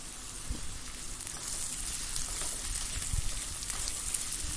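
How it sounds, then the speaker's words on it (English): Onions and chilies fry in hot oil in a pot, giving a steady, fairly quiet crackling sizzle with a few brief pops, and no one speaks over it. "Adding in the chilies, and I'm going to fry these till they're golden brown"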